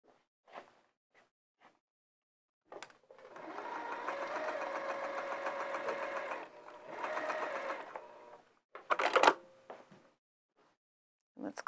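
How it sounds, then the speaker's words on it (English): A sewing machine stitches over a box pleat in flannel fabric, running in two steady bursts of a few seconds each, with a short pause between them. Light handling clicks and rustles come before and after. "I'm gonna sew over it and then press as well."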